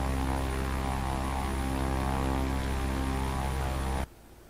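IAI 201 Arava twin-propeller airplane in the FSX flight simulator game, a loud, steady engine and propeller drone with a constant tonal hum that cuts off abruptly near the end.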